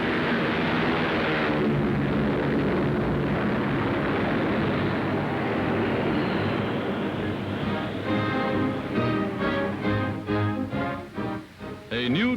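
Military aircraft take off down a runway in a 1942 wartime newsreel, a loud, steady broadband engine roar that slowly thins out, with a narrator speaking over it.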